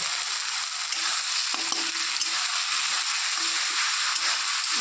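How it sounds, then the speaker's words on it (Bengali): Ground spice paste of coriander and other spices hits reddened onions frying in a pan for chicken curry, giving a loud, steady sizzle with faint stirring scrapes. "তো পেঁয়াজটা একটু লাল লাল হয়ে গেছে, এখন আমি এই মশলাটা দিয়ে দেবো।"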